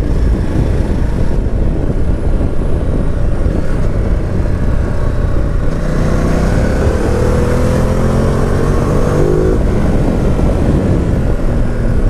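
A 2019 Ducati Multistrada 950 S on the road gives a loud, steady engine drone with rushing wind, and the pitch rises and steps through gear changes partway through, with no voices.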